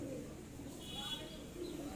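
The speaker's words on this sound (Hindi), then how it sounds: "कितने प्यारे प्यारे कबूतर है" Pigeons coo softly at a busy pigeon market, with a few faint chirps and low murmuring in the background, all quiet and somewhat distant.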